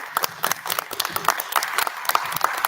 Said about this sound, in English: I want to give PPSD team also a big round of applause